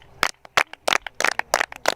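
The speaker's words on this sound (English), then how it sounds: "Now clap for yourselves for being such good listeners." A short burst of children clapping for themselves: several quick, uneven, sharp claps in irregular clusters, close and fairly loud.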